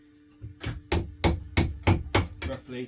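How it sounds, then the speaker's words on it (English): Dummy hammer striking a small tungsten-tipped chisel on stone while cutting away waste during sculpture carving: seven sharp, evenly spaced close blows at a steady rhythm, with no speech. "This is a dummy hammer and this is a small tungsten tipped chisel, and I've just got to cut the flip stone away"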